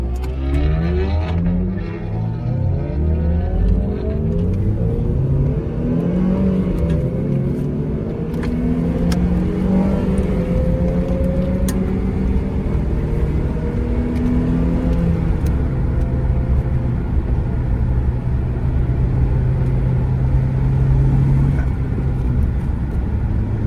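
A Honda FN2 Civic Type R engine revs on a night mountain road, heard from inside the car as loud rising and falling engine tones through gear changes over a constant road rumble.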